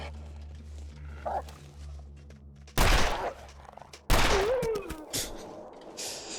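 Two loud, sharp revolver shots ring out about a second and a half apart in The Long Dark survival game. A snarling animal cry follows the second blast, with quieter ambient rumble between the shots.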